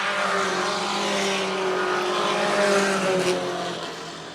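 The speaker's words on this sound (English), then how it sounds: "he is dogging that 19 car right in the tire tracks" Race cars roar around a track with the leader and a following 19 car running close together. A loud, sustained engine whine shifts pitch as they pass, heard alone without talk.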